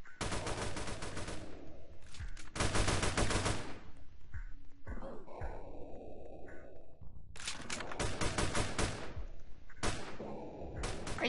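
Bursts of rapid automatic gunfire in the Roblox video game, several loud rattling volleys separated by brief quieter gaps, all close and dominant.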